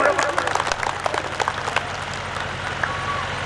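An audience claps at a political rally in Goraya, Punjab, a dense burst of applause that is loudest at the start and then thins into scattered claps and crowd murmur.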